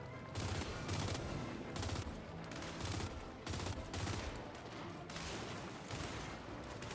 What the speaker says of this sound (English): as we're shooting a gigantic guy up there